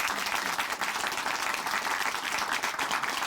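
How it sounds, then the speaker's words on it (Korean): Studio audience at a Korean Christian testimony programme gives a steady, dense round of clapping, loud and continuous throughout. "다시 한번 박수 보내드릴게요"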